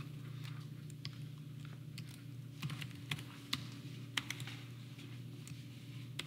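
Clicks and taps from a computer keyboard during a tech live stream, quiet irregular bursts of keystrokes with a few sharper strikes, heard alone over a low background hum.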